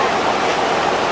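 Floodwater rushing through the flooded streets of Bangkok, Thailand, a loud, steady broadband roar of churning water with no break, close and continuous with no voices over it.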